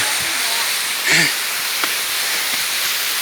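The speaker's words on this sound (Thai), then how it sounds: "น้ำตกที่ไหลลงมา" Water pours steadily down the first tier of Mae Kampong waterfall in a broad, constant hiss heard close by. A brief voice cuts through it in the middle.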